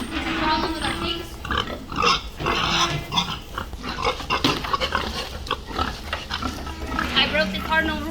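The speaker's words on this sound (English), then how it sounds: "We have 7 pigs in this pen" Seven pigs grunting and snuffling in a farm pen, a busy close cluster of overlapping grunts and squeals running throughout, with a person speaking among the animals.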